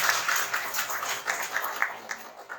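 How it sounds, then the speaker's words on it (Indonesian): Talk show studio audience applauding, a continuous patter of many hands clapping at moderate loudness for a few seconds. "Tepuk tangan buat Bafik dan juga Vanessa."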